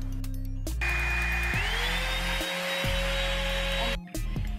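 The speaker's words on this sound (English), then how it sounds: "The air blows through the top part of the brush and that's where the main focus is." Revlon One Step blow dryer brush blowing air, a steady loud whirring roar with a rising pitch as the speed setting changes, switched off briefly near the end.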